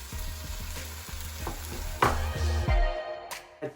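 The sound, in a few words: sautéing chopped onion in pan for lamb curry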